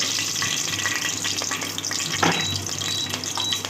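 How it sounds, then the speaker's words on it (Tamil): Steady crackling sizzle of mustard seeds popping in hot oil for tempering, close up, with occasional stirring sounds. "நம்ம இந்த நேரம் கடுகு போட்டுடலாம் தாளிக்கிறதுக்கு"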